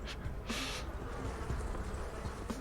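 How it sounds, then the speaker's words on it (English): A low, continuous buzz of bees hums throughout in the video game Pathologic, with a short noisy burst near the start. "I can hear them. I hear the bees."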